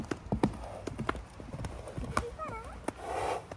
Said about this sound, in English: they come across some horses